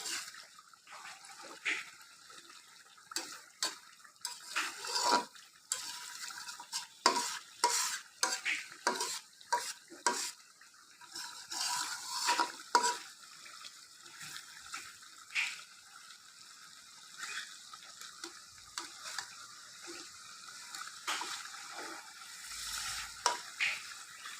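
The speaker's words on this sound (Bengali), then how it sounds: "মাছগুলোকে আমি একটু আলতো হাতে নেড়ে দিচ্ছি, যাতে সব পাশেই মশলাটা খুব সুন্দরভাবে ঢুকে যায়" Fish coated in masala gently stirred as it fries in a wok-style pan, repeated close scraping and stirring strokes over a soft sizzle, irregular bursts with brief pauses between them.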